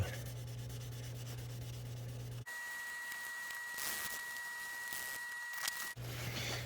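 Steady, close rubbing and sanding on a chipped tail light lens, a continuous hiss that shifts in texture partway through with a faint high whine underneath.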